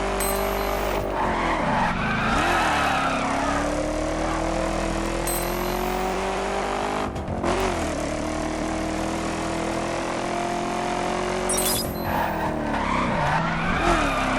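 A car in the racing video game The Crew sliding around corners with handbrake help, tires squealing in long sustained skids over a constant engine drone, with brief clicks and chimes and no talking.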